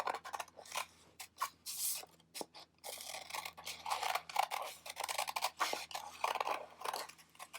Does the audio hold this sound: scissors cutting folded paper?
yes